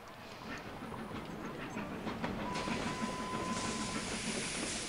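Train running in the video game Sid Meier's Railroads: a continuous rumbling rail roll with hissing and faint clatter, a thin whistle-like tone entering partway, no talk.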